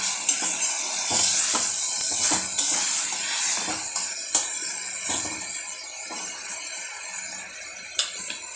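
Onion and garlic paste frying in a pan for a homemade Bengali dumur (fig) curry, a steady soft sizzle punctuated by occasional clinks and scrapes of a stirring spoon, close and continuous with no talk.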